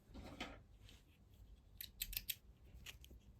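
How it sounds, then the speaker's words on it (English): Close, crisp scissor snips cut through crochet yarn, with a soft rustle first and then several quick sharp clips in a row, quiet and alone. "I'm going to chain 1 and cut off my yarn"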